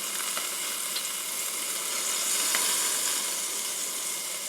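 A New York strip steak sizzles on a Ninja Foodi grill, with a steady, close frying hiss and a few faint pops and crackles, and no talking.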